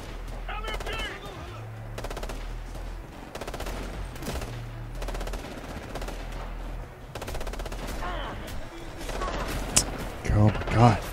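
Sustained light machine gun fire in the tactical shooter Ghost Recon: Future Soldier: dense, rapid bursts of automatic shots run throughout, with a louder, closer volley near the end and voices talking beneath the gunfire.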